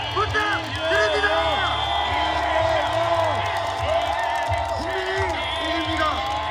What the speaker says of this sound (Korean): 마지막으로 가장 큰 함성과 박수를 부탁드립니다.